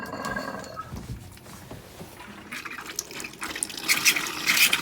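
Camper water taps sputtering during winterizing as valves are shut off one by one, air and water bursting out in irregular spurts and gurgles that grow louder and hissier toward the end, close by with no talking.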